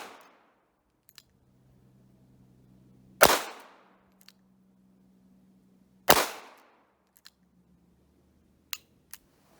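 Two sharp, loud gunshots from an 1895 Nagant revolver in 7.62x38mmR at a shooting range, several seconds apart, each with a quick ringing decay, plus a few faint clicks between them.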